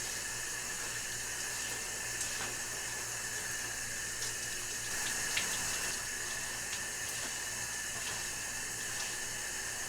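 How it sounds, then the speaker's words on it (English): Indigo-dyed blue water streaming off soaked denim during washing, a steady close hiss of running and trickling water that holds an even level throughout, with no voices. "you can already tell that it's dripping blue water"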